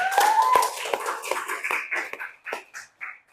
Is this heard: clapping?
yes